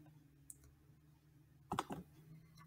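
Faint isolated clicks, then a quick cluster of sharp taps as calculator keys are pressed to enter an equation, close and quiet against low background hum.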